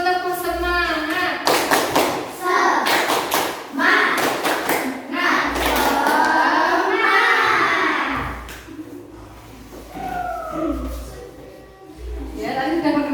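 A classroom group of primary school children does a rhythmic encouragement clap in bursts of quick claps and thumps, mixed with loud chanting and a teacher's voice speaking between the patterns.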